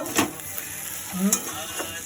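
Aloo posto, potatoes in poppy seed paste, cooks in a kadai with a soft sizzle broken by a few scraping stirs of a spatula against the pan.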